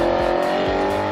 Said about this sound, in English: Now, why I'd get a V8 is because it sounds like this.